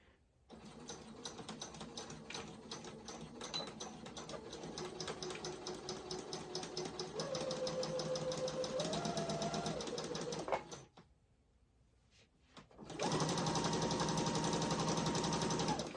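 A Singer sewing machine stitches a scrunchie, a close, steady rapid clatter that shifts speed a few times, stops briefly for a moment of near silence, then resumes at a fast, even pace.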